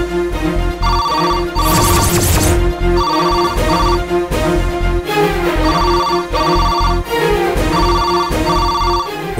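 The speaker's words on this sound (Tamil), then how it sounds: "போன் அடிக்குது" A telephone rings repeatedly in a steady pattern of bursts over a loud music score, close and prominent throughout, in a Tamil TV serial scene.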